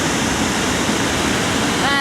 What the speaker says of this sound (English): The waterfall we have here is called Sognefjord, and it's Aurlandsfjord's biggest waterfall.